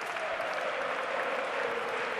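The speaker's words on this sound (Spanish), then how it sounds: "Vuelve a aplaudir el público del, del Palau" The crowd at the Palau applauding during an ASOBAL league handball match between Barcelona and Ciudad Real, a steady, dense roar of distant clapping filling a large arena with no breaks.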